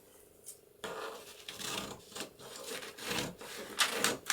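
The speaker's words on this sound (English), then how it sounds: "I might get a scissors with a bit bigger blades." Paper cover for a handmade recipe book journal being cut with scissors, a run of dry rasping snips and rubbing strokes repeating unevenly at close range, with no voices.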